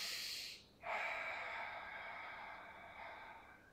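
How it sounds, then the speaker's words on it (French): An audible breath during a Pilates exercise: an airy exhale fades out, then a sharp, close inhale through the nose follows and settles into a long, soft breath. "Inspire."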